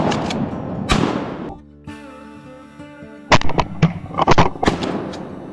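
Shotgun blasts ring out during a flooded timber duck hunt in Arkansas, a couple of sharp loud bangs followed by bursts of excited voices and shouting.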